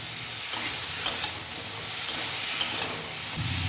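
Bottle gourd sautéing with spices in a hot pan gives a steady, dense sizzle, with scraping stirs and small crackles scattered through it. No voices.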